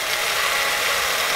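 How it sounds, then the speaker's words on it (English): A power drill bores into a monster clay mold, giving a steady, dense whirring grind that holds at one even level throughout with no pauses. "Keep drilling in there."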